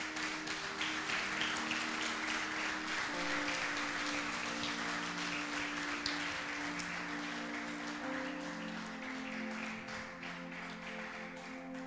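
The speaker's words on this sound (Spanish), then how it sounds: "Denle un fuerte aplauso en este día." A church congregation applauds in a quiet, steady, rain-like patter of many hands, held evenly throughout beneath sustained low musical tones.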